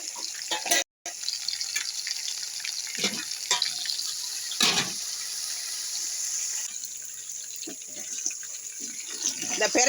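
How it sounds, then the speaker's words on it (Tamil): Water is poured into a hot pan of frying liver. A hissing sizzle rises with sharp bursts and crackles, close and fairly loud, and pops on and off around a brief break. "கொஞ்சம் தண்ணி ஊற்றி கொஞ்சம் வேக வைக்கணும்."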